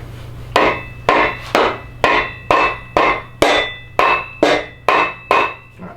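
Ten sharp, evenly spaced whacks as an engine part is hammered into place to set the thrust on a big block engine, each strike ringing briefly, close and loud with no talk.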